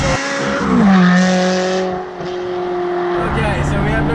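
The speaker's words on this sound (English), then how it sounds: "a lot of road noise and a lot of engine noise in this car" A Ferrari 360 Challenge Stradale without carpets or sound deadening roars loudly from inside the cabin while driving, its engine note rising and falling under steady road noise, with a voice talking over it.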